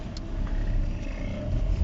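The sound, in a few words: cars driving in a busy supermarket parking lot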